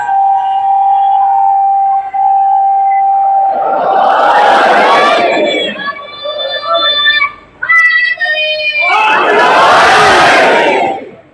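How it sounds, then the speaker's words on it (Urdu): Gathering at an imam bargah in Dera Ghazi Khan during a majlis, chanting religious slogans in call and response: a single voice holds long intoned calls, and the crowd twice answers with loud, massed shouted slogans. "ایک باہر سے اگر نعرے کی آواز آئے گی تو اور اچھا لگے گا."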